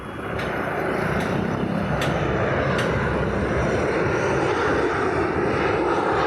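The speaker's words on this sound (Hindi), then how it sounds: "ये एक और प्लेन की लैंडिंग" A fixed-wing airplane comes in to land near the Dwarka Expressway, its engine a loud, steady roar that holds throughout with no talk.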